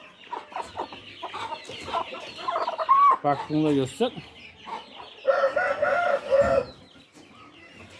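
Chickens cluck and a rooster crows amid a busy yard, with someone talking briefly over the poultry noise.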